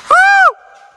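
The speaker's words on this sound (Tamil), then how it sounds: "எக்கோ அடிக்குது," A single loud shout rings out in a desert canyon at Wadi Lajab, Saudi Arabia, then its echo hangs on at the same pitch and slowly fades.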